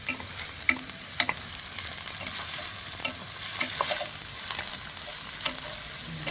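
Chopped green chillies and onions frying in oil in a home kitchen, with a steady bright sizzle broken by scraping stirs of a spatula against the pan.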